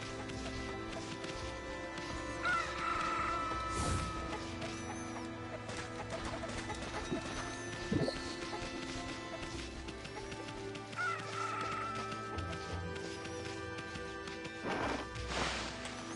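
Chickens cluck in the Okami video game amid a busy mix of horse neighs and clip-clop hooves, short clucking calls recurring a few times over a dense, steady game soundscape.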